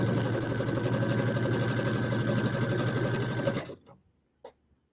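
A sewing machine stitches a border onto a small quilted wall hanging, running loud and steady for nearly four seconds before stopping, followed by a couple of faint clicks.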